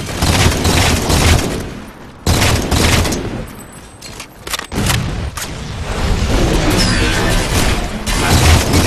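Heavy gunfire from a Halo 4 Regicide match on the Solace map, with dense bursts of shots and crashes, loud and up close. It briefly breaks off twice before the barrage starts again.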